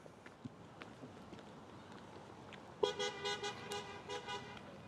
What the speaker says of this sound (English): Got some horn honking going on here.